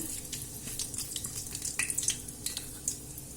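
Bay leaves, a cardamom pod, cloves and fennel seeds crackle in hot oil for a chana masala, a steady soft sizzle with scattered small pops and spits, close and fairly quiet, no voices.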